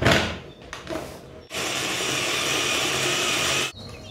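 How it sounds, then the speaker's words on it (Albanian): A kitchen blender grinds a batch of ingredients together, with a short burst and pause before a loud, steady whirring run of about two seconds that cuts off abruptly. "Tash të filloj që t'i bluaj që të gjitha bashkë."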